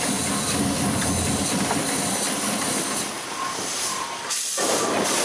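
Loud, continuous hiss of a steam engine at a steam rally in Driffield, steady and close, with a brief dip near the end and no speech.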